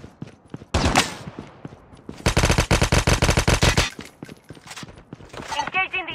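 Call of Duty video game gunfire: short sharp shots, then a loud sustained automatic burst of rapid rhythmic reports lasting over a second, with more scattered shots after and a game voice heard between them.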